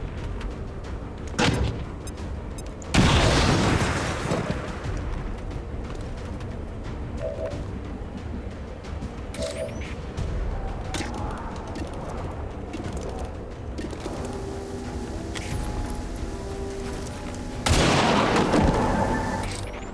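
A frag grenade goes off in XCOM 2 as a sudden loud blast with debris and crackle. It sits among other game explosions, clicks and ambient effects, with a second heavy boom near the end.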